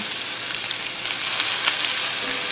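Burgers fry in a pan with a steady, close, continuous sizzle and crackle, with no voices over it.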